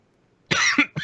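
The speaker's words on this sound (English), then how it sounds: "Pardon, I was coughing." A short burst of coughing sounds up close after a moment of near silence, two or three harsh coughs in quick succession.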